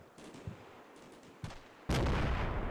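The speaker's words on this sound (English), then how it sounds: "Oh no, more mortars." Mortar rounds landing in a war video game: a few faint thuds early on, then a loud, sustained blast of impacts and rumble in the final second, with no voices.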